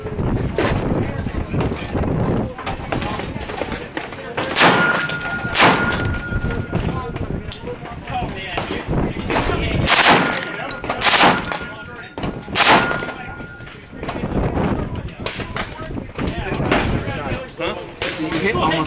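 Guns firing at the SHOT Show industry range day in Las Vegas, with repeated loud, sharp shots and booming reports from several firearms, irregularly spaced, with wind buffeting the microphone.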